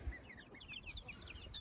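Farmyard chickens pecking at a muddy boot make soft, rapid clucks and chirps close by, quiet and continuous over low background rustling, with no speech.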